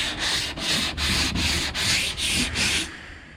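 TotalBoat Total Fair fairing compound on a power catamaran build is hand sanded in quick back-and-forth strokes, about seven rhythmic rasping passes, close and alone, stopping just before the end.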